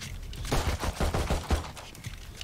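Rapid gunfire in the tactical shooter Valorant, a dense run of close, punchy shots fired in quick succession with a few trailing single shots.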